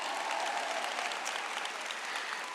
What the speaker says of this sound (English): well, yes, you can clap for him.